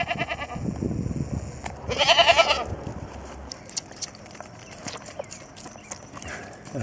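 A goat moves about on a farm, its hooves clopping close by, with a brief loud bleat in the middle and scattered shuffling afterward.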